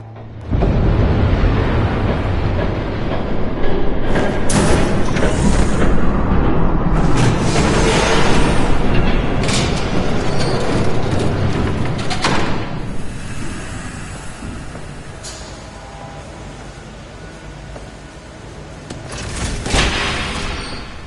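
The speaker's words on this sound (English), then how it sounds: "There's a train coming." A train approaching in the Batman Telltale video game, a loud, broad roaring rush that swells and stays dense for most of the stretch with several sharp bursts, easing off before a final surge.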